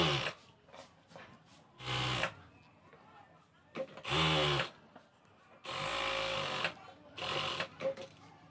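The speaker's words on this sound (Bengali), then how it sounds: "এখানে দেখুন একটা ভাঁজ দিয়ে আমি সেলাই দিলাম।" A sewing machine stitches a folded hem for an elastic waistband on palazzo pants in short whirring bursts separated by pauses, close by, with someone speaking between runs.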